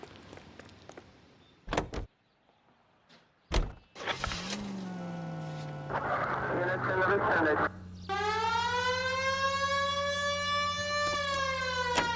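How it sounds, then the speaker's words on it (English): A car door thumps and an engine starts, then a loud wailing police car siren in L.A. Noire rises and holds steady, close up, with electronic tones layered over it. "We have a siren."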